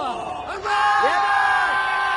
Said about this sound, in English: the crowd have joined the party. It's pretty noisy in the ground.